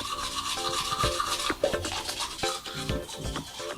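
Teeth brushed hard and fast with a toothbrush, continuous close scrubbing with quick repeated strokes and wet bristle rasping, with no voices over it.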